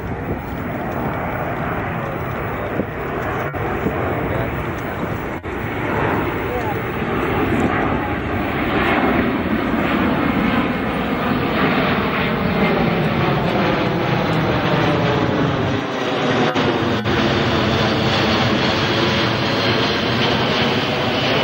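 Large jet airliner with tall winglets at the EAA AirVenture Oshkosh airshow, its engines giving a loud continuous roar that slowly shifts in pitch as it passes, with an announcer talking over the noise.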